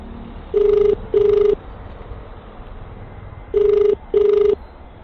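Outgoing phone call ringing out to a delivery customer, four ringback tones in two paired bursts, loud and close, over faint background hum with no talk.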